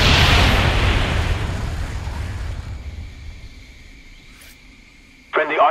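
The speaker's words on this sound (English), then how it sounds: "Napalm strike coming in." Napalm strike in a jungle shooter video game: a loud, roaring burst of fire and explosion that slowly decays into a long crackling rumble, ending with a short sharp sound.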